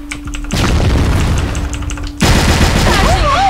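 Gunfire in the CrossFire shooter, with dense rapid bursts and booming shots filling the clip, broken by a brief lull before a louder final volley, with a voice briefly heard near the end.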